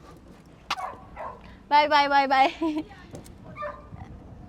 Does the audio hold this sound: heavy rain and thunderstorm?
no